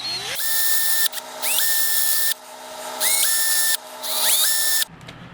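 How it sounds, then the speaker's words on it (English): An electric drill whirs loudly through plastic in three or four bursts, pitch rising as each starts, with short pauses between. "we're going to take our drill and come straight in"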